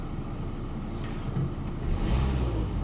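Car engine given a rev while a scanner monitors turbo regulation, a steady close engine drone that swells slightly toward the end.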